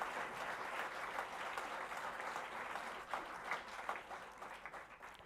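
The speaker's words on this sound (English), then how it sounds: "A big applause, please." Audience applause at a memorial lecture, a dense steady wash of many hands clapping from a sizeable crowd, continuous and fairly even for several seconds with slight swells.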